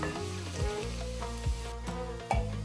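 Ginger sizzling in hot oil with mustard seeds and panch phoron, a steady close frying hiss with a few brief stirring knocks and no talking.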